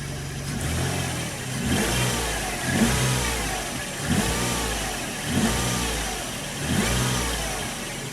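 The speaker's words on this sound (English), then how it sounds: "What if I rev it up?" A 1995 Ford SHO engine revs repeatedly under the hood, rising and falling in about five even surges from a steady idle, loud and close.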